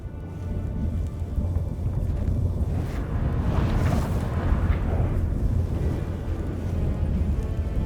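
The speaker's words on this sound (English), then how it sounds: "That a storm?" Storm in The Witcher 3 video game: a continuous roaring wind with deep rumbling, swelling into a thunderous surge midway before settling back into a steady howl.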